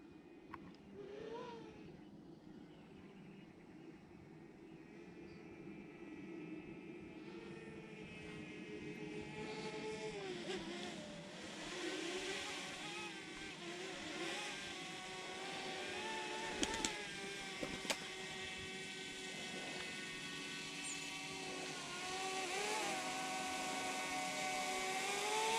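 A DJI Mavic Mini drone flies in to land near an abandoned train yard. Its high whining propeller buzz shifts pitch and swells as it nears, with a couple of brief knocks near the end.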